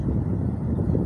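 Wind buffets the microphone while fishing for tilapia outdoors, a low rumbling gusty roar that stays steady and close for about a second.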